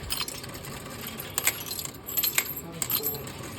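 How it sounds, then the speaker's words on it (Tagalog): Coins clinking and rattling as they drop into a train ticket machine at a station in Japan, several quick metallic chinks in bursts over steady background hum. "naghanda na kami ng barya panghulog dito sa machine"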